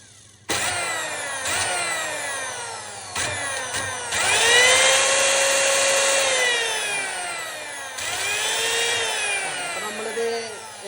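A household mixer grinder motor, opened up for repair, whines loudly as it spins up and settles at different speeds, its tone rising and falling over several starts.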